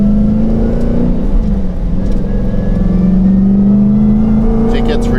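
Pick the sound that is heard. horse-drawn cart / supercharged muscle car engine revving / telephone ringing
supercharged muscle car engine revving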